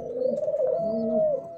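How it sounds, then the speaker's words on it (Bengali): A dove calls in the morning with soft, low, hollow coos rising and falling in a smooth two-part phrase, close and clear against a quiet background, with no one speaking. "আমার কাছে খুবই ভালো লাগে গুগু পাখির ডাক।"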